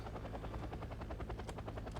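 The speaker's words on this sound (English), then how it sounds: "Don't tell me that was a command helicopter." A command helicopter in the Wargame Red Dragon video game gives a steady, loud rotor chop, its blade thumps pulsing evenly for the whole stretch with no voices over it.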